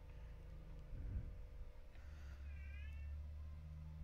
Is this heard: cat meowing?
yes